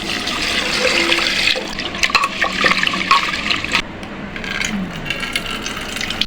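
Water gushes and splashes steadily as rice, masoor lentils, cut potatoes, onions and green chillies are rinsed in a kitchen, with brief clattering partway through.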